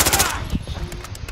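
Loud, close bursts of rapid automatic gunfire from Call of Duty: Modern Warfare, a quick rattling volley that fades into scattered sharp shots, with a voice faintly underneath.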